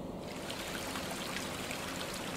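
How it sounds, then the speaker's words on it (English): A river flows steadily, a soft continuous babble and trickle of moving water with no other sounds over it. "Then Bawang Merah walked along the river"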